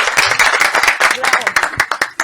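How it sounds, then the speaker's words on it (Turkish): A Turkish television quiz show audience claps briskly for a contestant, a close burst of many hands with sharp irregular slaps running the whole time. "Önce Mustafa abiye bir alkış arkadaşlar."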